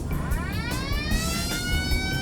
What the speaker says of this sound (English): it has the classic blue lights on the top and the classic Italian siren